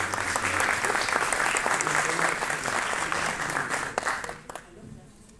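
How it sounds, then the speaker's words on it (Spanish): Audience applause for a discussion panel at a themed session, a sustained dense clatter of many hands that thins out and stops near the end, with some faint voices mixed in. "por un fuerte aplauso a nuestra mesa que nos acompaña"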